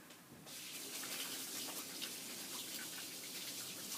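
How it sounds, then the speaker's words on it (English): Hands are washed under a running tap, a steady close hiss and splash of water that starts abruptly and continues evenly with no talk. "I'm just going to wash my hands."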